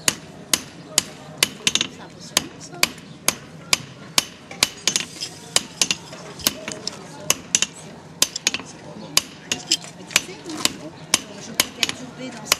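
A blacksmith hammers metal on a steel anvil during a forge demonstration. The blows are sharp and ringing, struck in a fast, steady rhythm throughout, with faint voices in the background.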